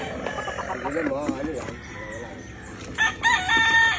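A chicken thrashes and squawks while being dipped into water with its head kept above the surface, loud cries and crowing-like calls rising near the end, with people talking close by.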